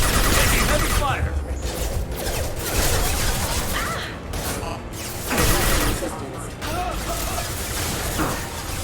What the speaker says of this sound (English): Hostiles detected. Taking heavy fire!